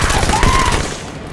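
A rapid burst of SMG fire in Halo 5: Guardians during close-quarters combat, loud and continuous for about a second before trailing off.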